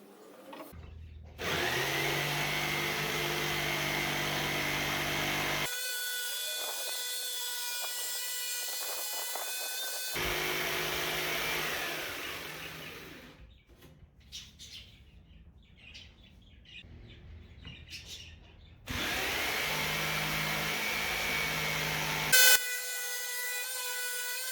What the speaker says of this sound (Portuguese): Vou conectar os 2 furos usando a serra tico-tico.